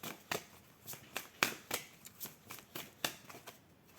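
Tarot cards being shuffled and drawn by hand, a quick series of crisp riffling snaps and slides about two to three per second, close and fairly quiet with no voices.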